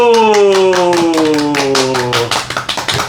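Hands clap in a quick burst as a Korean medicine Q&A session opens, the claps loudest over a sustained musical tone at first, then trailing off into a few sparse, separate claps near the end.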